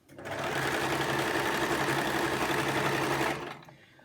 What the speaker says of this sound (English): just crack on and get these sewn in together, and move it back to the centre position and sew on through